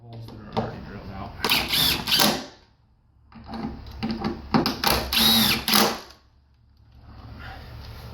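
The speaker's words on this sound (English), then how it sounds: "We're just going to screw these screws into place into the holes that are already drilled out." A power driver runs screws into pre-drilled holes of a wooden bed frame in two bursts of whirring, each a second or so long, with brief pauses between and a voice talking around them.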